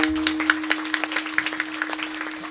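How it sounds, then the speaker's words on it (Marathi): Kirtan audience at a village Harinam Saptah clapping at a steady rhythm, sharp regular claps from a crowd that sound reverberant and moderately loud, with no voices. "टाळी वाजा जरा"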